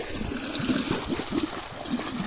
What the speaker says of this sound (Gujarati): આ જો અહીંયા આવે પાણી